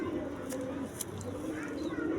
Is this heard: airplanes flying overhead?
no